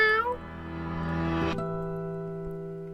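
Cats meow in a video game, with a high, tonal call that bends and sustains over steady game music and tones, fairly close and moderately loud.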